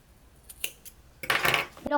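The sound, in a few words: cutting yarn with scissors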